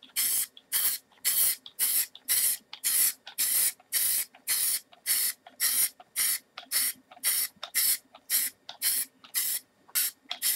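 Aerosol spray paint can sprayed in a regular series of short bursts of about half a second each, separated by brief pauses, a sharp close hiss with no talking.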